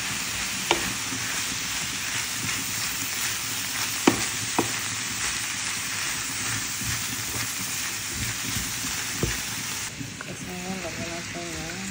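Bean sprouts and carrots for spring rolls sizzle and crackle steadily in a hot pan while being stir-fried, with occasional clinks of a utensil against the pan and a voice talking over it.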